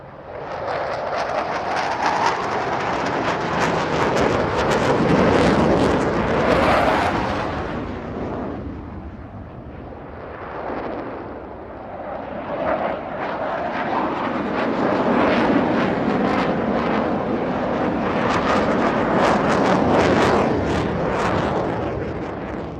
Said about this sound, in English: when the jets made their grand entrance, they were literally over our heads